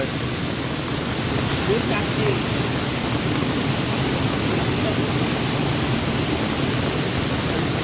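A rain-swollen monsoon stream rushes in a heavy downpour, a dense, constant roar of water that fills the whole stretch evenly and close by.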